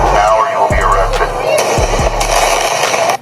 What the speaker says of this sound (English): Protesters set off fireworks as law enforcement break up an anti-ICE rally in Brookhaven.